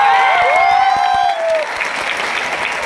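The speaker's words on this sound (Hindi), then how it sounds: "जोरदार तालियां" Audience applause at an award ceremony honouring a recipient on stage, a dense wash of clapping that runs throughout, with a sustained high tone, like feedback or music, over the first half.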